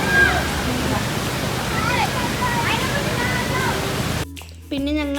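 A stream flows on a rainy family outing, giving a steady rushing wash of water close by that drops out briefly near the end as a voice speaks.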